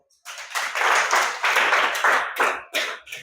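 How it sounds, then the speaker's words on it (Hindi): Students in a classroom clap their hands together in a burst of loud, fast, uneven claps that fill the whole stretch, rising and falling in small waves. "ताली बजाओ।"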